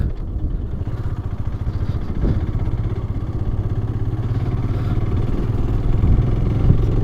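A motorcycle ridden through a toll plaza on a Himalayan road trip, its mid-pitched engine droning steadily up close with a rhythmic thrum and mechanical clatter, alone and without talk.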